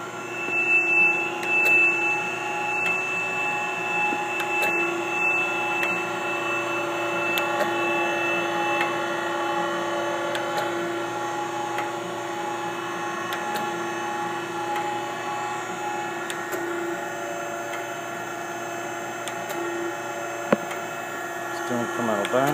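A Kent 10x20 surface grinder spindle runs with a steady, even machine hum and a constant whine, holding a level drone throughout with a few faint clicks and knocks in the shop.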